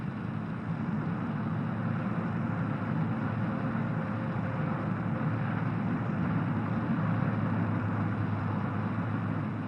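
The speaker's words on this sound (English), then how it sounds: "Third gear and full throttle, with the speed rarely dropping below 45 miles an hour." A car towing a Sprite caravan climbs a mountain road above Granada toward the snow line in third gear at full throttle, giving a steady, loud engine drone with wind rush throughout.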